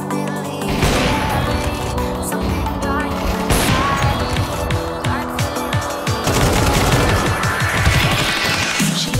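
Counter-Strike 2 gunfire in a competitive match, with repeated loud bursts and single shots crackling over dense game sound, rising again toward the end, with a commentator talking faintly underneath.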